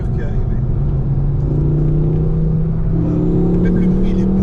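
Car engine running on a racing circuit, a steady loud drone with rising revs partway through as the car pulls away, heard up close while people talk over it.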